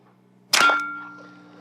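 Suppressed 9mm pistol shot firing an Aegis 115-grain round through a Rugged suppressor: a single sharp report, close and fairly loud, followed by a faint ringing tail.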